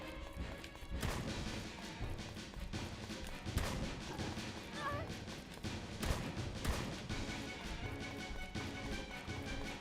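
Repeated gunshots in an 8-bit survival horror video game, Dead of Darkness, a run of sharp bursts over busy game music and noise with someone talking now and then.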